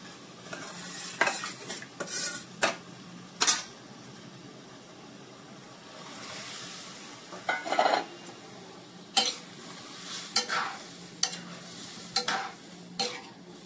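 Whole masoor lentils with a little water are stirred into a hot tempering in a pan, giving repeated scraping clinks of a spoon against metal over a soft ongoing sizzle, with quiet gaps between strokes.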